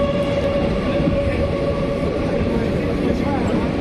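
Steady rumble of a moving train heard from inside a crowded general-class coach, a continuous low roar with a faint hum and murmuring passengers underneath.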